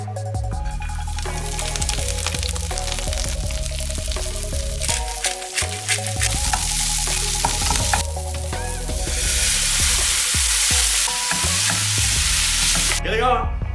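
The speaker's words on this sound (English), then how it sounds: "just fry them gently in a little olive oil and add some" Shredded Brussels sprouts frying in olive oil with balsamic vinegar, a close, continuous sizzle with stirring scrapes and small crackles, growing louder and hissier toward the end over a faint low background tone.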